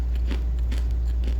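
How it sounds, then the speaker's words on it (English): Crispy air fryer roasted chickpeas crunch in about three short, close bites over a steady low background hum. "Listen to that crunch."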